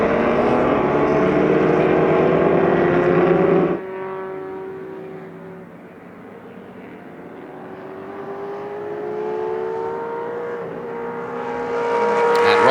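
Shelby and Ferrari 275 GTB race cars at Sonoma Speed Festival roar past with loud engine notes that rise and fall as they pass, the sound easing and then building again near the end.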